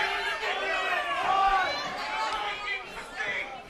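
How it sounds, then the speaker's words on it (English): A wrestling crowd watching the Caribbean Cartel fills the arena with loud, steady babble and jeering voices, a sustained wall of disapproving noise. "The crowd is loud and they are not happy with the Cartel."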